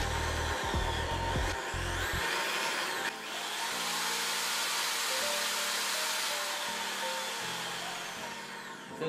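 An electric drill motor plugged into a homemade dimmer switch runs at full speed, giving a loud, continuous, close mechanical whine that dips briefly once, then holds steady without talk.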